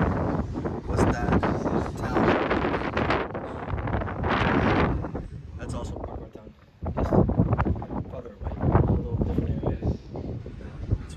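Strong wind at the top of a castle in Portugal, buffeting the microphone in loud rumbling gusts that rise and fall, with a voice speaking in places.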